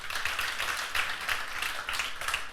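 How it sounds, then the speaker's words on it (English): Audience applause after a speaker's talk on breaking barriers, heard as a steady wash of clapping from a room of listeners with scattered louder claps, moderately loud throughout and with no talking. "I think you deserve a round of applause"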